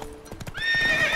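In The Witcher 3, a horse's hooves clop in a short quick burst, then a loud, close whinny rises and holds to the end, with no one talking.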